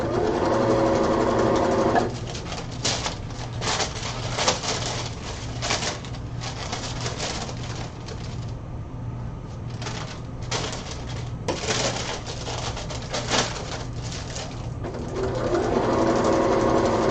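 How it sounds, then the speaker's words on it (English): A home sewing machine stitches pleather for a God of War Freya cosplay in several runs of rapid mechanical whirring, with crinkling material and pauses between bursts, close and fairly loud. "This is part of sewing pleather"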